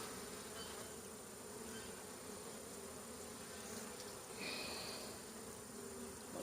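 Honeybees buzz densely and continuously at the hive, a thick steady drone of many insects close by with no voices.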